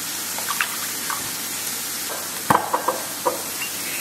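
A soft, continuous sizzle of chicken frying in a pan, with a few sharp clinks and scrapes of a utensil.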